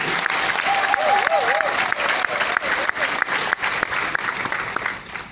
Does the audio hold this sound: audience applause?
yes